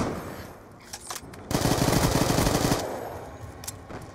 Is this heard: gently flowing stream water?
no